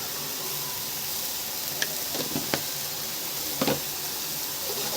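Cumin seeds crackle and sizzle in hot oil in a kitchen pan, a steady close frying hiss broken by a few sharp pops and brief stirring scrapes, with no voices.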